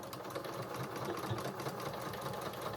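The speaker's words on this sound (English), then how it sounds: "so we'll just back stitch first." A sewing machine runs steadily while back stitching the start of a dress seam, a close, continuous mechanical whir with no pauses.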